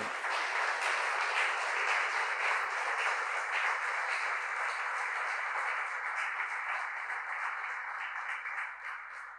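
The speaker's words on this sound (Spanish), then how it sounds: "Dele un aplauso si lo está entendiendo." Church congregation applauding during a sermon, a steady broadband wash of many hands clapping at moderate distance, sustained evenly for the whole stretch without voices.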